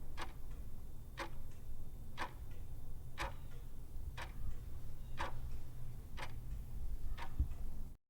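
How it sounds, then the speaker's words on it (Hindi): A wristwatch ticks in a dark, silent room, eight even clicks about one second apart, crisp and close over a low steady hum. "अपनी ही घड़ी की टिक टिक"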